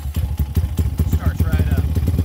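A Pitster Pro ADV190R motorcycle engine on its first start, with the choke pulled, gives a close, rapid chugging pulse that quickly settles into a steady idle rhythm.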